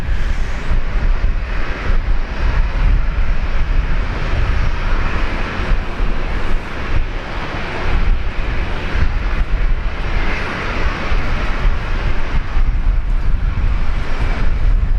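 An Air New Zealand airliner, a Fokker bound for Auckland, takes off from runway 01 right at Brisbane Airport, heard as a loud, steady broadband engine roar with wind noise that holds throughout.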